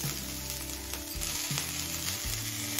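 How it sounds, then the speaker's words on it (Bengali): Ginger and slit green chillies sautéing in a pan make a steady, close sizzle and crackle, with faint stirring thumps and no talk. "আদার কাঁচা গন্ধ চলে যাওয়া পর্যন্ত কষিয়ে নিয়েছি।"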